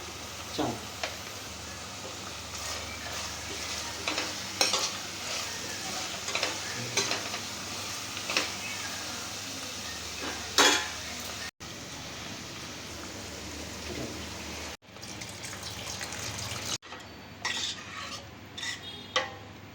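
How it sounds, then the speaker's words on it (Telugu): Soft-cooked tomato masala with chili powder frying in a pan, a continuous sizzle under repeated scraping strokes of a spoon stirring it, with occasional metallic clinks against the pan. "టమాటా మెత్తగా మగ్గింది చూడండి ఇప్పుడు కొంచెం కారం వేసుకుందాం"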